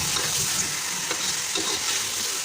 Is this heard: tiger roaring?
no